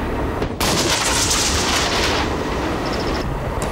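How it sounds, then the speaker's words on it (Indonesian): Sustained rapid gunfire from a military attack simulation on a field, loud and dense, with overlapping shots running almost continuously for several seconds after a brief gap. "tembakan"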